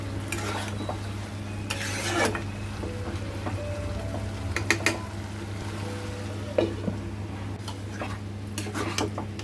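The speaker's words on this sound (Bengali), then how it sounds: "নাড়িয়ে চাড়িয়ে ভালো করে মিক্স করে নেব।" Banana flower curry with fried prawns is stirred in a pan: scattered scraping and clinking strokes of a spoon against metal, close and moderate, over a steady low hum, with no talking.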